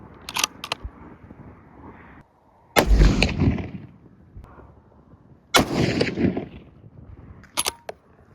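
Rifle shots fired while sighting in a newly mounted scope, several loud sharp cracks spaced seconds apart, each with a booming decay, plus a few quieter clicks between.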